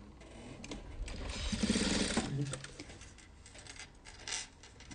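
A sewing machine stitches fabric, fastening 3.5 cm triangles down the middle in a steady, busy run that swells in the middle and then eases off, fairly close, with no voices.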